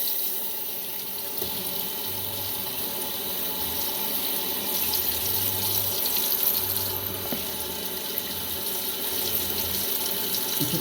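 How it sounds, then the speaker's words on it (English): Tap water runs steadily into a sink while hair dye is rinsed out, a continuous broadband splash and hiss with faint low hum pulses underneath, no voices. "I am rinsing it out in the sink"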